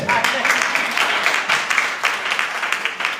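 Church congregation applauding during a sermon service, a dense, loud and steady wave of clapping from many hands throughout, with voices mixed in.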